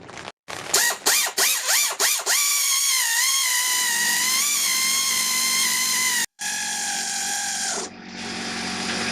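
A 17mm engine mount bolt on a 1999 Acura RL being driven in with a power tool: a few short bursts of whirring, then a long steady high whine that shifts in pitch before stopping, close and loud.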